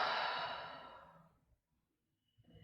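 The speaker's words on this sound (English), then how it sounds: "Exhale through pursed lips. Like you're blowing out birthday candles." A long exhale through pursed lips during a Pilates spinal rotation exercise, a steady airy breath that fades out over about a second and a half, followed by quiet and a faint breath at the end.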